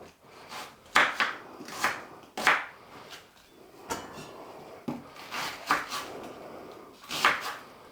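Knife roughly chopping ingredients for brown sauce on a wooden board, a string of close, irregular thuds and scrapes in uneven bursts with no talk.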